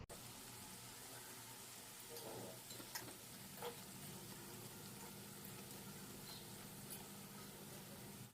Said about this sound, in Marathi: आता दोन्ही साईडने टिक्की आपल्याला व्यवस्थित तळून घ्यायची आहे.